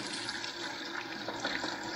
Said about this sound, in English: There's not a lot of water flowing like it ought to be.